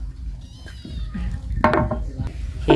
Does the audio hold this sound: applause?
no